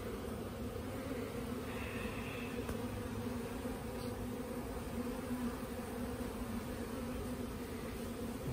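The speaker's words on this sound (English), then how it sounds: "Looking good. Nice, healthy bees." A dense, steady drone of honeybees buzzing around an open hive fills the air continuously and evenly, close by, with no voices present.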